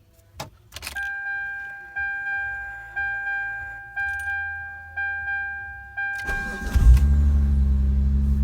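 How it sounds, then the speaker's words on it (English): A 2000-2005 Mitsubishi Eclipse engine cranks and starts after a regular series of chimes from the dashboard warning system, then settles into a loud, steady idle at close range. "Car is on."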